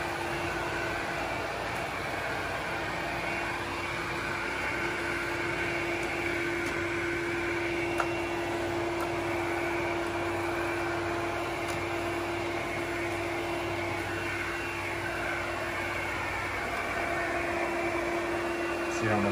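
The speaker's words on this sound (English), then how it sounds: "So that sound you hear is the suction motor." A Smartmi robot mop's suction motor runs steadily, a faint, even electric hum with a constant tonal whine and soft airy noise, with no break across the stretch.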